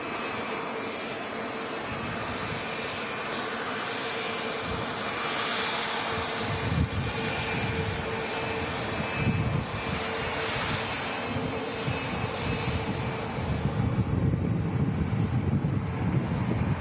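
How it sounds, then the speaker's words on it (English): An Airbus airliner on a Eurowings flight from Dusseldorf passes overhead with a broad, rising engine roar and a distinctive howling tone, heavy and continuous under gusty wind noise, swelling louder toward the end. "may experience a nice Wookiee howl from the fairly modern Airbus airliner"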